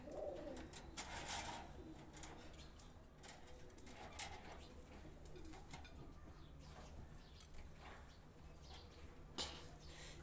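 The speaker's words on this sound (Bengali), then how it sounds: "আলিয়ালা পেয়ারটা বিক্রি হবে, এটা রানিং কবুতর, ডিম নিয়ে বসে আছে দেখেন" Aliyala pigeons, a breeding pair sitting on eggs in their nest, give soft, low cooing with a few faint chirps over a quiet, steady background hiss.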